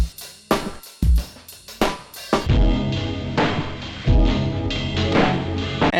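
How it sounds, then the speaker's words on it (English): Sampled drum sounds and loops: a run of punchy separate drum hits with deep kicks at first, then a layered looping groove with sustained tonal elements, loud and close with no talk. "Drum sounds and loops."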